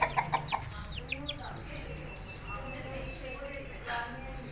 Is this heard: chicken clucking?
yes